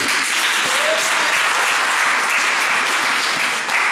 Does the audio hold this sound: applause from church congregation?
yes